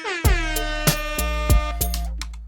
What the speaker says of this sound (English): now I have the air horn here